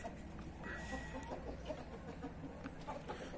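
A caged silver rooster clucks softly in a henhouse among other laying hens, with scattered short calls over a steady background murmur of the coop.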